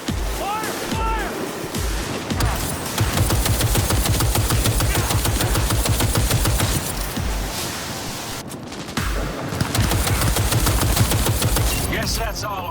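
Heavy gunfire rings out in the video game Cyberpunk 2077, with loud, dense bursts of rapid automatic shots running almost continuously over a rumbling, surf-like roar, with a brief lull partway through.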